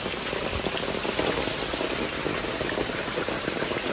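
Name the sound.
heavy rain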